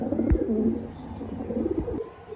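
A female pigeon coos nearby in a short, low, throaty burst.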